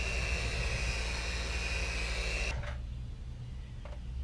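Car polishing machines buffing the paint of a Toyota Tundra Platinum in direct sun, a steady loud motor whine that cuts to a lower, quieter hum partway through, with no voices.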